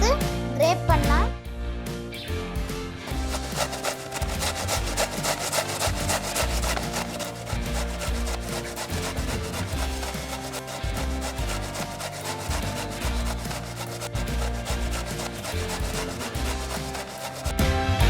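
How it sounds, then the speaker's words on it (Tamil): Beetroot rubs against a grater in quick, continuous rasping strokes, close and steady for the whole stretch, with a brief sharper scrape at the start. "ஒரு பீட்ரூட் எடுத்து கிரேட் பண்ணலாம்."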